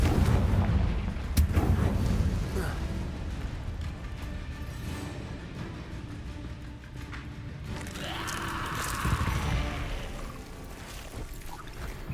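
Repeated Confringo blasting-spell explosions from the game Hogwarts Legacy rumble in dense, booming bursts, layered with crackling debris and a rising roar near the end, loud and continuous with no talking.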